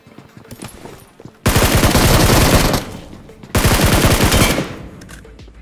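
Automatic gunfire in the BGMI (PUBG Mobile) battle royale game, with two long, loud sustained bursts of rapid shots, each a second or more, close and dominant, over quieter game background.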